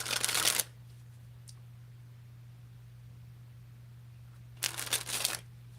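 Playing cards riffling in two loud bursts, one at the start and one near the end, during repeated card springs from a large deck, with quiet hum between.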